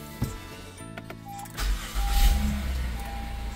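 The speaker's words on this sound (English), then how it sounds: "And then start the car," A car is started to power an airgun compressor hooked to its battery: a brief starter crank catches into a steady low engine idle, close and clear with no talk.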